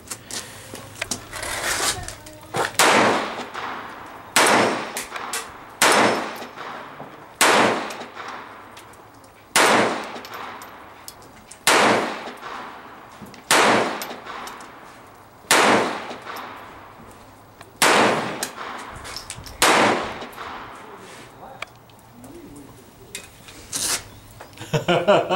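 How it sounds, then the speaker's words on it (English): Pistol shots from a Beretta ring out against steel targets, about ten sharp reports spaced a couple of seconds apart, each followed by a short metallic ring and decay, fairly loud outdoors with no talking. "I got used to shooting that Beretta, so. Got some new targets set up out there."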